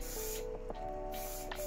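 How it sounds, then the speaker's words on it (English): Contact adhesive spray glue applied in a few short hissing bursts while building a custom guitar case, close and clear in a quiet workshop. "spray a bit of spray glue contact adhesive"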